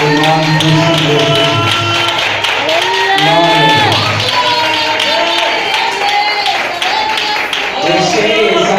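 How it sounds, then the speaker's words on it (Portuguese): Church congregation clapping together during a worship service, steady dense applause mixed with voices and singing over it throughout. "Dê uma salva de palmas que exalta e glorifica o nome do Senhor."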